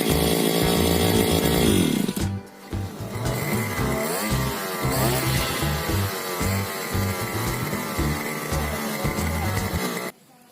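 A newly assembled grass trimmer engine roars loudly and steadily up close, drops out briefly, then restarts and revs with a raspy, chainsaw-like buzz until it cuts off.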